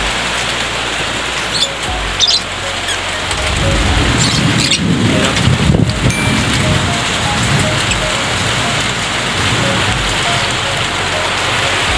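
Heavy rain pours down in a dense, loud, continuous hiss that swells stronger partway through, with occasional faint knocks and no voices.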